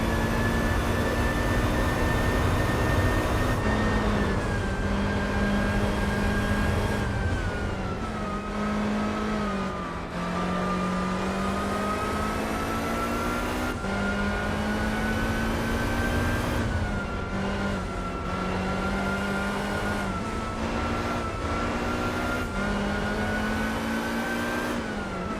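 Race car engines roar through a lap in the video game Gran Turismo 4 Spec II. A loud, continuous high-revving drone climbs steadily, then drops in pitch at each gear shift, with no voices.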